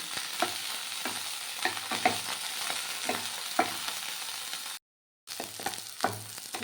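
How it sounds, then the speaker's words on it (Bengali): Cauliflower florets and potato pieces fry in a pan for a vegetarian khichuri, with a steady soft sizzle under repeated stirring and scraping strokes, broken by a brief silent gap. "ফুলকপি আর আলুটা আগে লাল লাল করে ভেজে নিতে হবে"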